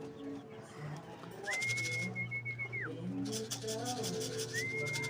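Racing pigeons coo and rustle nearby at a pigeon loft, with soft repeated low coos, wing and scraping noises, and a brief whistle-like tone over a quiet outdoor background.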